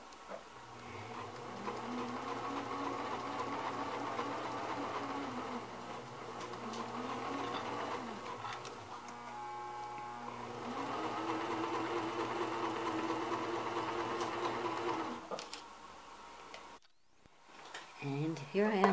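A sewing machine hums and whirs steadily while stitching a skirt layer with pink bobbin thread, running in long continuous bursts with a brief pause, then stopping near the end.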